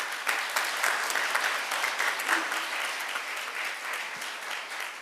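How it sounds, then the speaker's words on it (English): A conference audience at an international sports congress gives a sustained round of applause, dense even clapping from a full hall lasting several seconds before easing slightly at the end. "Please give all the speakers and discussants a big round of applause."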